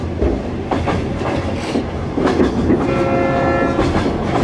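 A train on a line toward China runs loudly and close, with rumbling wheels and rhythmic clickety-clack on the rails and a faint tonal whistle-like hum partway through.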